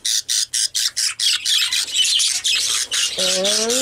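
Young chicks, one pale and probably a dilute like the hen, squawk in a fast run of sharp, evenly spaced peeps that merge into continuous chirping, ending with a louder, higher call close by.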